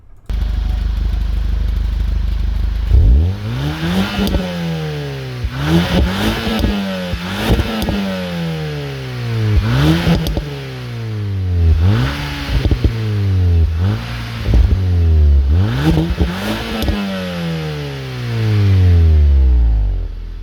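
A Volkswagen Golf GTI Mk6 engine, tuned, with stock exhaust, revs up again and again, each rev rising then dropping off, loud and close, with a steady idle at the start.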